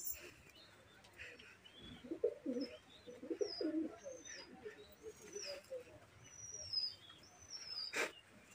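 Pigeons coo in soft, low rounded bursts near the middle of a quiet setting, with faint chirps and brief high tweets above and a sharp click near the end.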